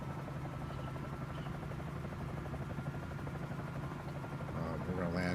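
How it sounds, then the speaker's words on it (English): A float-equipped helicopter in a flight simulator game flies with a steady rotor chop and engine whine at even loudness, with a faint voice near the end. "being that we have floats on this helicopter"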